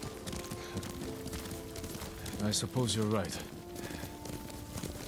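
Horse hooves clip-clopping in the samurai game Ghost of Tsushima on PS5, a steady rhythmic trot running under two characters' conversation, with the voices louder than the hoofbeats.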